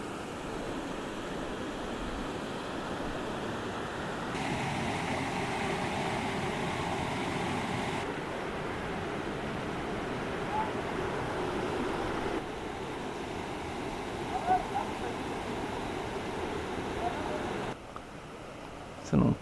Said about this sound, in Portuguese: A água vem correndo por ali, ó. E vai descendo aqui.